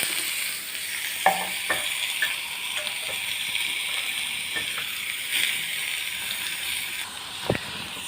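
Chopped banana stem sizzles and fries in a pan with crackling mustard seeds and curry leaves, a steady hiss with occasional sharp pops and a few scraping stirs, no talking.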